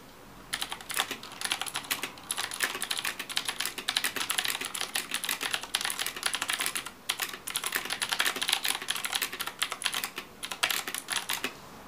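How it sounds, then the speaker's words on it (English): Continuous fast typing on a Ducky Shine 5 mechanical keyboard with Cherry MX Blue switches, crisp clicky keystrokes close up with only brief pauses, no voices. "So next up we have the Ducky Shine 5 with the cherry blue switches."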